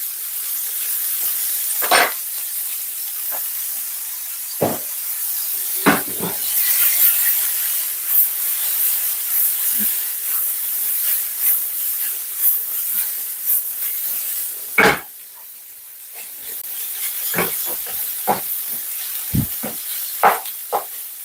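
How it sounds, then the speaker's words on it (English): Steady sizzling hiss of onions frying in butter in a pan, with occasional sharp pops and crackles rising over the continuous frying sound. "So I want the onion to sizzle"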